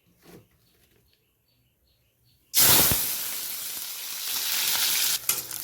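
Onions frying in a pan for a snail and drumstick curry burst into a loud, sudden sizzle after a near-silent pause, then keep hissing and crackling steadily up close, with no talk.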